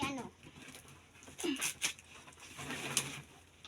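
A pet bird, a caged dove or pigeon, gives soft cooing calls in short bursts at moderate distance, mixed with speech and light background clatter.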